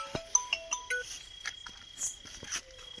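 A mobile phone ringtone plays for an incoming call, a quick melodic run of bright electronic tones repeating over about three seconds, moderately loud against a faint chirping background.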